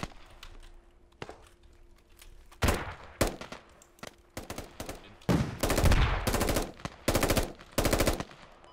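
Automatic gunfire rattles in the video game Squad, scattered single shots giving way to loud, close bursts of rapid fire, with a faint hum between volleys.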